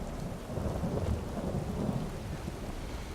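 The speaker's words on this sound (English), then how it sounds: "Oh man, I even love the sound of virtual thunder." Virtual thunder rumbles through a rainstorm in Skyrim, a low rolling boom over steady rain hiss, with no voices.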